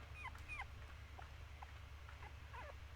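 A dog in the video game Rule of Rose whimpers and yips in short, high, plaintive cries scattered across the moment, faint against a low, steady droning game ambience.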